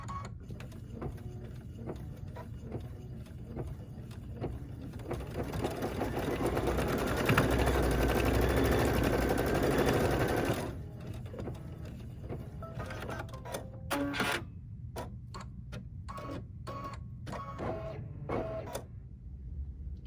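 A Solaris embroidery machine stitches a placement outline for a small bird design on a mini pillow, a steady close mechanical whirr and rapid needle ticking that swells midway, then breaks into short stops and starts.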